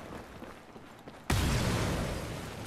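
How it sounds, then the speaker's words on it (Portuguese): A 12-gauge shotgun fires once in the video game Battlefield 4: one abrupt, loud blast breaks a quiet background and then trails off in a long rumbling decay. "Escutei tiro de 12"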